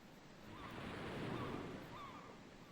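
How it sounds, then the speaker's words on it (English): Video game sound effect from an Amiga: steady rush of ocean waves with a broad surf wash, and faint high cries of distant seagulls drifting over it. "you hear the ocean. You hear waves. You can hear seagulls in the background"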